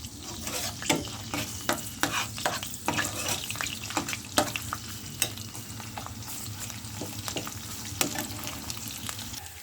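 Chopped onion with bay leaf and cinnamon frying and being stirred in oil for restaurant-style chickpea curry, a steady sizzle broken by repeated sharp scrapes and clicks of a spoon against the pan, close and moderately loud.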